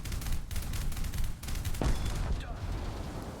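Gunners fire in a video game, a dense rattle of shots with a louder, sharper blast near the middle, continuing steadily over a busy game background.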